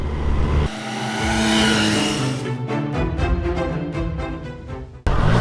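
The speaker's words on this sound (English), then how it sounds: "the best part is the exhaust note of this triple" A Triumph Tiger Sport 660 three-cylinder motorcycle engine roars and revs loudly, then drops into a rhythmic burbling exhaust pulse as it shifts, up close with no talking.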